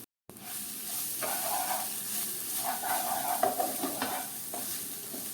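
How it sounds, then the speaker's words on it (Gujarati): Green peas cooking in a pan with ginger and chilli, a steady sizzle with a spatula stirring and scraping through it, close and moderately loud with no talking. "લીલા વટાણા આ મિશ્રણને આપણે સારી રીતે ચડવા દઈએ"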